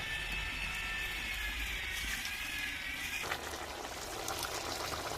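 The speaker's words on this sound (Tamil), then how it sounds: "1/2 கிலோ கறிக்கு அரை லிட்டர் தண்ணி ஊற்றணும்" Water poured steadily into a pot of pork curry, a continuous close splashing fill that stops abruptly partway through, leaving quieter kitchen sounds.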